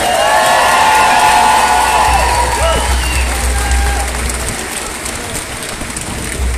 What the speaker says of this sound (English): So please give a big round of applause for Una.